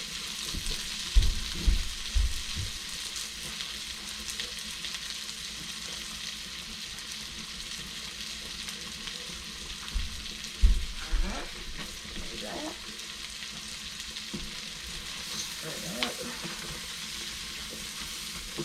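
Garlic sautés in a pan at home with a constant broadband sizzle, close and even, broken by a few clattering knocks of a utensil near the start and middle, no speech.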